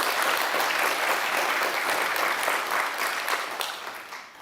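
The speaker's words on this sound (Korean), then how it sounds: "심사위원 여러분께 다시 한번 큰 박수 부탁드립니다" Dense, loud applause from the audience at an awards ceremony, a continuous roar of many hands that holds steady before tapering off near the end.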